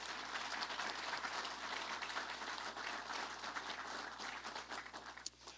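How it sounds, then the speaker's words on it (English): A community college audience applauds the college president during a governor's speech in Utica, a steady crowd of clapping that holds throughout and tapers slightly near the end. "let's give him a round of applause"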